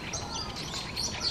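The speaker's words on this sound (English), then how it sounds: "It's them, the brown or Meyer's parrots." A flock of wild brown Meyer's parrots calls in Uganda with a brief run of high, scratchy chirps, moderately distant and continuous.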